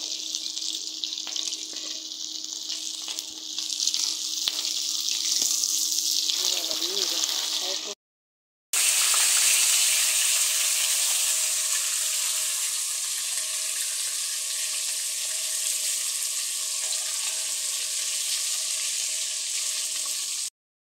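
Fried koi fish lifted out of hot oil in a pan, a steady loud hiss and crackle of sizzling that runs almost unbroken, with one brief silent gap partway through.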